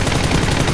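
Gunfire in the PUBG video game, a loud, dense burst of shots filling the short moment without pause.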